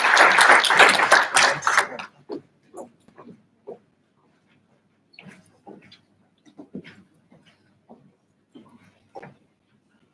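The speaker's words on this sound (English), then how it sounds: "A round of applause, please." Applause at an ethical leadership summit: a dense burst of clapping from an audience for about two seconds, then fading into scattered, isolated claps and small noises across a quiet hall.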